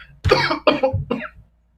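Three quick, harsh coughs in a short burst, close and loud, then silence.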